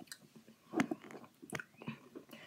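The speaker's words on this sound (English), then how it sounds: "You have to chew pretty loud." Takis rolled tortilla chips being chewed close up, loud crunchy bites and irregular munching bursts with short pauses in between, no talking.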